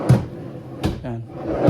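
Drawers of a renovated built-in bed unit slide and bump, giving three sharp wooden knocks spaced under a second apart, close by, with brief talk between them.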